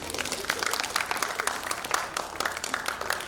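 An audience at a panel session claps in a lively burst of applause, many hands together making a dense, crackling patter that holds steady throughout and is fairly loud, with no voice heard over it.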